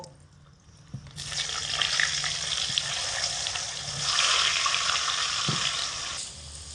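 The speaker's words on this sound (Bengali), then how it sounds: "তেল ভালো করে গরম হয়ে গেলে এর মধ্যে প্রথমে আলুর পিসগুলোকে দিয়ে ভেজে নেব" Potato pieces dropped into hot oil and fried for khichuri, a steady close hiss of bubbling oil that swells midway, with faint stirring clinks and no talking.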